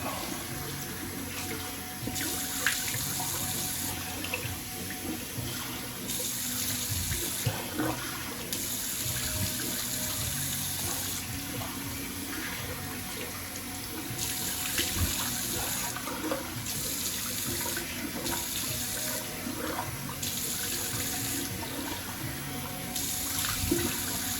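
Tap water running and splashing in a bathroom sink while a carbon razor is rinsed after a shave, a steady close rushing stream broken by brief splashes and pauses in flow.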